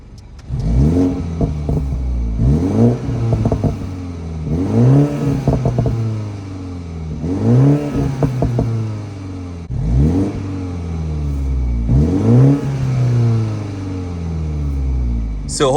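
A BMW 330i with a B46/B48 engine in sport mode is revved repeatedly in rhythmic pulses about every two seconds. Each rise falls away into crackling exhaust burbles, heard loud and near from inside the car.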